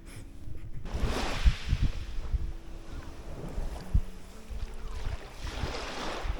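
Sea waves wash onto Tekirova beach on the Lycian Way in Turkey, a steady surf roar with swelling surges and gusts of wind noise buffeting the microphone, no voices.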